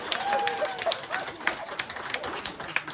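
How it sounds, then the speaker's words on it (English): An audience at an outdoor campground stage hypnosis show claps in a short, scattered round of applause, with a few whistles and murmuring voices mixed in. "give her a big round of applause."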